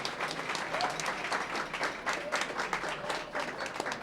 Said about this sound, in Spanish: pedirles un fuerte aplauso además para nuestras panelistas